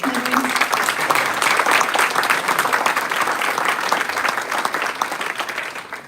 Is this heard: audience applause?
yes